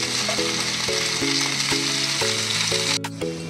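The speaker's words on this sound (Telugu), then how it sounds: "ఇదిగోండి, మధ్య మధ్యలో ఇలా కలుపుకుంటూ ఉండాలండి, ఇలా వేగాలండి" Veld grape chutney sizzling and frying steadily in a pan, with repeated stirring scrapes every half second or so; the bubbling hiss stays close and even, dipping briefly near the end.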